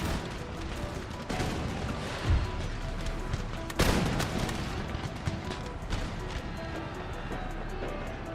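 Musket volleys and shrapnel shot in Empire: Total War rumble as a dense, continuous battle roar, with sharp crashing bursts standing out near the middle.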